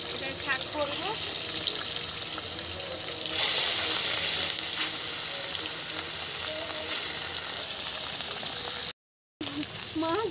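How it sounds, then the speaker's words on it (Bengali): Fish heads frying in oil on a small stove in a rooftop cooking setting, a continuous crackling sizzle at moderate distance with occasional clinks, a short dropout near the end, no speech. "ছোট উনুনটায় মাথাগুলো ভেজে নিচ্ছি আমি"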